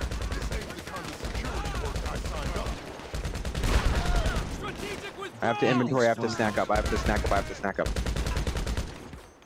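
Bursts of rapid gunfire and automatic weapon fire crackle through a firefight in GTA V, sustained and fairly loud beneath excited overlapping talk from players.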